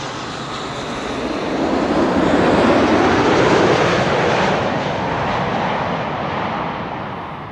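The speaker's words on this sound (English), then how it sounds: "KLM Flight 741, 787-10, arriving from Cartagena in Colombia." A KLM Boeing 787-10 airliner, arriving from Cartagena, passes on approach to Amsterdam Schiphol. Its loud, broad jet roar swells to a peak and then slowly fades, with no voices.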